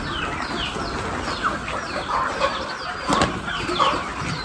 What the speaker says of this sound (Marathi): त्या पूर्ण अशा कावेरी जातीच्या कोंबड्या आहेत